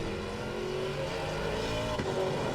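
Race car engine in Assetto Corsa Competizione roaring steadily as another car comes up and passes during an online race, a continuous loud drone with a brief swell near the end.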